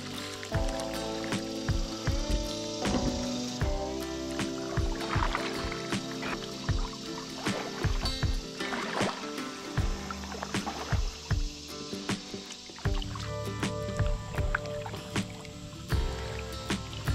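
A Vibe Yellowfin 100 fishing kayak moves across open water, with steady paddle dips, splashes and drips and water lapping against the hull, fairly close and continuous with no talking.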